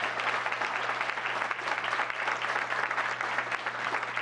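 Attendees at a town council meeting applaud, producing a steady, dense wash of clapping from a roomful of people, with a low constant hum from the room underneath.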